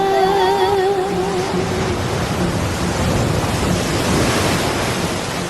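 Surf washing onto a Konkan village shore where boys go swimming, a steady loud broadband roar of waves with a brief tonal sound in the first couple of seconds.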